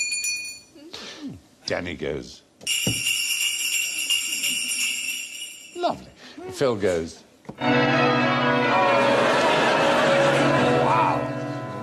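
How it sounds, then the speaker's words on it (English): Contestants on a quiz show jingle hand bells in turn, bright tinkling bursts of ringing between a host's spoken lines, with one long sustained shimmer of bells near the end. "So, jingle your bells, please."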